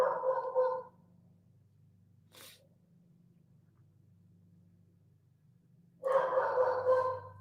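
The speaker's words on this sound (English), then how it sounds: "Got the dog barking." A pet dog named Bailey barks indoors, one bark at the start and another near the end, moderately close, with a faint low hum filling the quiet gap between.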